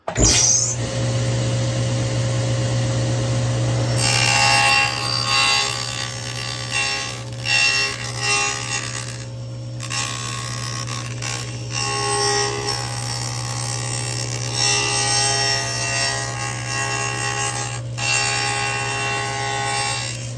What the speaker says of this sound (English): this is how I will cut the other groove